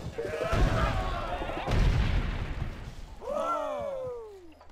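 Two heavy booming blasts of cannon fire go off in sequence in the game Civilization Revolution, each with a rumbling tail, followed by a descending whistling sound.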